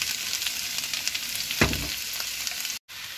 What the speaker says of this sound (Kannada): ಈಗ ನಾನು ಕಾಳನ್ನ ಸುರಿತಾ ಇದ್ದೀನಿ.